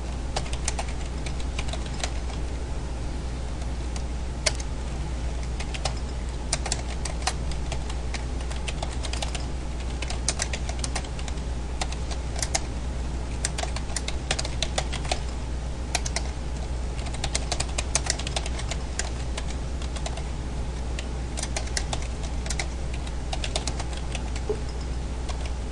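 Continuous typing on a computer keyboard, with a dense run of quick clicks and keystrokes that carries on steadily throughout, set over a constant low hum and with no voices.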